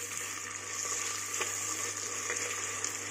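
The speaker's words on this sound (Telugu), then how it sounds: "ఇప్పుడు అల్లం వెల్లుల్లి పేస్ట్ 1 స్పూన్. ఒకసారి ఫ్రై చేసుకోండి." Ginger garlic paste fries in a pan for a millet vegetable pulao, a loud, even, close-up sizzle with a faint bubbling undertone and occasional stirring scrapes, steady throughout with no voices.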